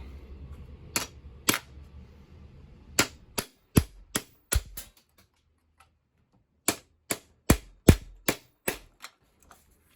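A hammer drives the hinge pin out of a cheap shackle padlock with sharp metallic strikes. They come in two clusters: a pair, then a quick run, a pause, and another run of blows, close and loud.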